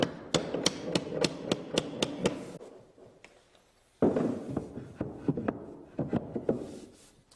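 A hammer taps a shim under a wooden stair tread to raise the center carriage. Sharp, close knocks come in a quick, steady run of about ten strikes, then a pause and a few more scattered taps.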